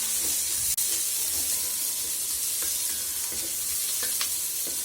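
Onions frying in hot coconut oil for a Kerala beef roast. The sizzle is steady and close, with a few soft stirring taps and scrapes against the pan and no talking.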